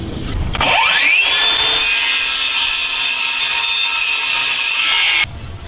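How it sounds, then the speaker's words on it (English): A power saw spins up and cuts steadily through a wooden window sill for several seconds with a high whine, then stops; close and loud, no talking. "I got the saw cut."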